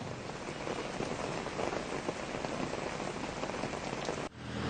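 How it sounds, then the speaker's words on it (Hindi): Steady rain in Delhi streets, a dense even hiss of drops on surfaces that holds unbroken and fairly close, then shifts abruptly near the end. "दिल्ली के कई इलाकों में आज बारिश हुई"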